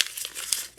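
Sheet of paper crumpled by hand while making paper roses, a dense crackling crinkle with a sharper crackle midway, close and steady, no talk.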